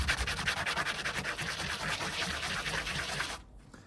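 Fine 220-grit sandpaper rubbed steadily back and forth along a bevel on a cigar box guitar build, a close, continuous rhythmic scratching that stops abruptly near the end.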